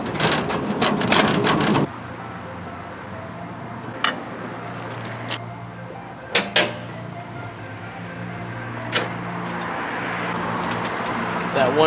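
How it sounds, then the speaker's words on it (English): Road traffic near a roadside, with a steady low rumble of passing cars and a louder vehicle sweep at the start, followed by faint knocks and clatters as a person talks. "sorry about the road noise, there's a lot of cars going on"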